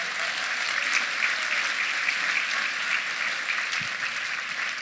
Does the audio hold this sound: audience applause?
yes